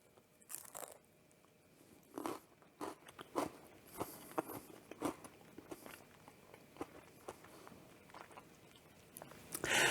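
Crunchy peanut butter pretzel bites with a crisp coating being bitten and chewed close up, giving repeated crackling crunches in an uneven rhythm, with no talking.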